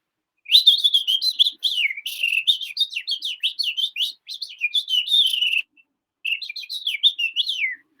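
A person whistles an imitation of a house finch call, a lively series of high, warbling chirps and tweets delivered in quick bursts, with a brief pause before a final run.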